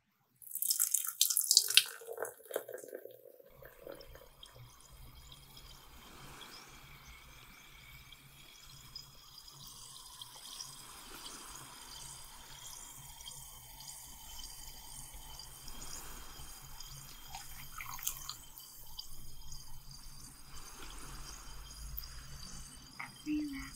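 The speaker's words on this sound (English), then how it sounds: "Listen to the fizz." Fizzy root beer is poured, then carbonation crackles and hisses steadily in close, quiet detail, tiny bubbles popping continuously for over twenty seconds after the initial splash.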